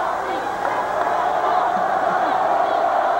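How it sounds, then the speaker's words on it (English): A basketball arena crowd at a 1989 Seton Hall at Rutgers men's game jeers a freshman player, a steady, broad roar of voices and shouts filling the space. "Dickinson, crowd getting on him too."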